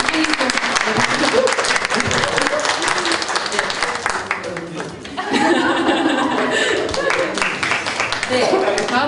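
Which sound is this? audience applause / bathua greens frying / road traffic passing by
audience applause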